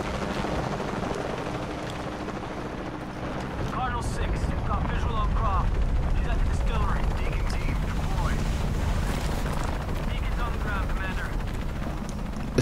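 A helicopter in the video game Shadow of the Tomb Raider drones with a low, continuous rotor rumble that swells midway, while bursts of gunfire crackle over it and a voice talks underneath.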